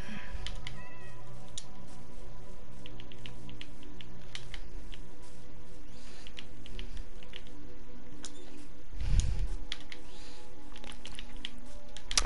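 A cat meows in the Minecraft video game, its short calls recurring over steady background game sounds, with a louder thump near the end and no talking.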